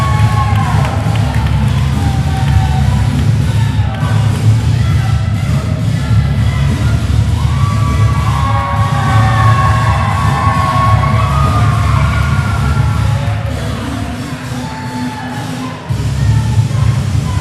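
Arena crowd at a combat pro wrestling championship bout cheers and yells steadily after the champion retains his title, a dense, sustained roar that dips briefly near the end before swelling again.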